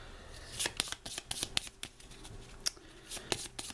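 A deck of game cards for the X-Files Legendary Encounters board game is shuffled by hand up close, with quick irregular riffles and snaps of card edges, fairly quiet and with no talk.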